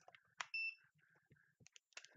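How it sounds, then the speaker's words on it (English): Multimeter set to continuity mode on a joystick's wiring, giving a short, clear electronic beep amid quiet handling noise and faint clicks. "if there's continuity in the line, I'm gonna hear beep"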